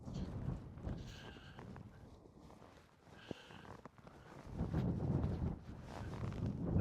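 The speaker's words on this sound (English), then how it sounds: "The wind's just coming from every direction, I think." Wind gusts around cracks and caves in coastal rock, buffeting the microphone in uneven rushes that swell and fade, with a quieter lull midway before the blustering builds again.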